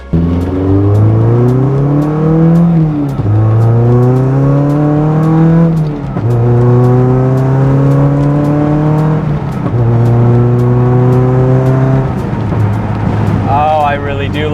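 Mazda NC Miata on a test drive, its engine revving up through the gears in repeated rising pulls with shifts between, loud and close from inside the car, with a person talking over it.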